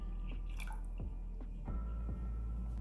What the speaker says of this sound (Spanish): Vamos a agregar las 2 tazas de agua de coco.